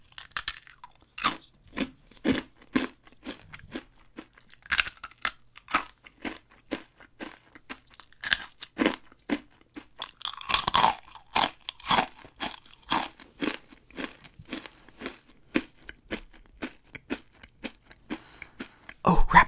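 Crunchy ASMR chewing of fries and cookies, close and steady, with dense repeated bites and crunches throughout and no talking.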